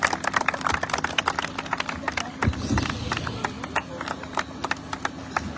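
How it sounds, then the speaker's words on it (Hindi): Crowd clapping at an outdoor cricket tournament in Siswa Bazaar, a rapid, uneven patter of many hands, fairly close, with crowd murmur and voices underneath. "ताली बजाओ यार।"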